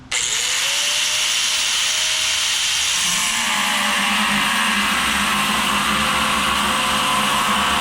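A power cutting tool slices through a metal part during an ABS unit install on a second-generation Dodge Viper, a sustained loud whine that settles into a steady grinding tone after a few seconds.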